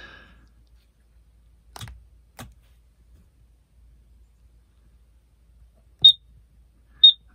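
A carbon monoxide detector in a Roadtrek 190 camper van gives two short, sharp, high beeps about a second apart. A few soft clicks come before them in an otherwise quiet interior.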